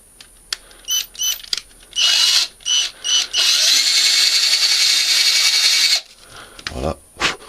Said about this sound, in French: Je commence par un tout petit foret.